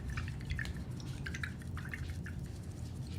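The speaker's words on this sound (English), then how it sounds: "So I'm going to wash my brush." A paintbrush is swished in water during a painting session, producing soft, close drips and small splashes in quick irregular bursts over a low background hum.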